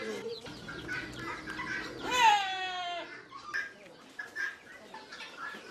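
Hens cluck at a farm, with one hen tending a large brood of chicks; the calls are near and repeated, and one louder, drawn-out squawk rises briefly in the middle.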